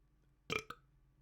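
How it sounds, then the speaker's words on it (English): A single short, throaty burp close to the microphone, a quick rough eruption followed by a brief second gulp, then quiet room hum. "And the burping continues."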